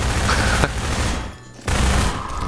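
Pistol fire against manhacks in Half-Life 2 Episode 2, loud rapid crackling shots in a dense burst, a brief quieter gap, then more shooting.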